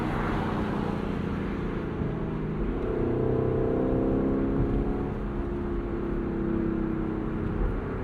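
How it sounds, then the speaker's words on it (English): A 2024 Lexus LC 500 V8 convertible in sport and manual mode, its engine bellowing loud and close, the pitch climbing and falling through revs and gear changes over a constant road rumble. "The soulful bellow of this car."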